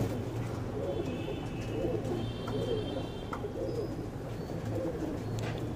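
Loft pigeons cooing in repeated soft, throaty phrases, close but fairly quiet over a low steady background hum, with faint chirps from other birds and no talking.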